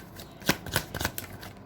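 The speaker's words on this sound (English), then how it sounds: "First, let's pull 3 cards for Leo." Tarot cards shuffled by hand during a reading, a short run of crisp riffling bursts, close and fairly quiet, with no talking.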